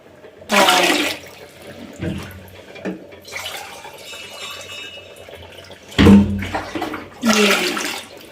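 Measured water poured from a lota into a pot for Sankranti pala thalikalu, several loud gushing pours in a row, each a few seconds long, with quieter trickling between them.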